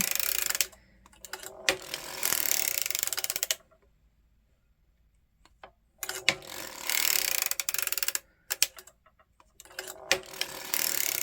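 A hand-cranked circular sock machine knits a sock heel, with bursts of rapid close clicking and ratcheting in several runs separated by quiet pauses.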